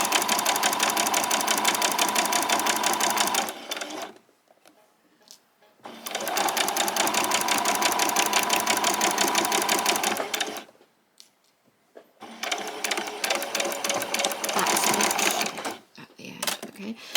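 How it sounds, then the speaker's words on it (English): A sewing machine runs in three steady bursts of rapid straight stitching on fabric, each a few seconds long, separated by short quiet pauses. "we're just going to do a nice straight stitch right down to the bottom."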